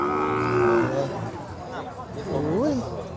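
Cattle moo loudly at a livestock market in Yasothon, Thailand, one drawn-out low call early and another rising call near the end, over a busy crowd murmur and people talking.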